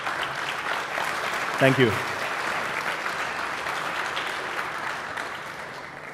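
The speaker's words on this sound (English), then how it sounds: "Round of applause." Broad, steady applause from a tech conference audience fills the room, with a brief spoken thanks rising over it partway through.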